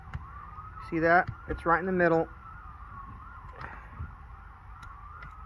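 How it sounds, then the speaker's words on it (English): A faint wailing siren drifts steadily in the background, distant, while someone speaks briefly over it. "Sorry about the sirens."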